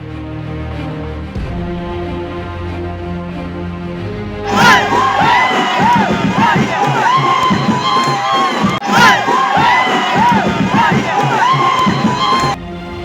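Crowd cheering and shouting at a BJP victory celebration after Maharashtra local body elections, quieter at first, then a loud, dense burst of whoops and yells that stays strong throughout.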